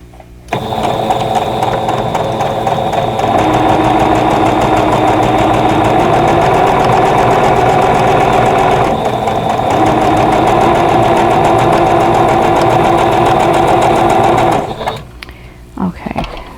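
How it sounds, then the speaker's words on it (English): Sewing machine stitching a half square triangle for a vintage strawberry basket quilt block, a steady loud mechanical whir running continuously for about fourteen seconds before stopping, with faint handling sounds at the end. "And I'm going to sew here."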